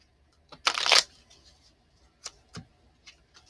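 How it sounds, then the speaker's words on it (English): A deck of spirit message cards is given a quick shuffle: one dense riffling burst close by, then a few soft card taps and ticks in otherwise quiet surroundings, with no talking. "So I'm going to do a quick shuffle on screen so that you guys see that, I'm picking them."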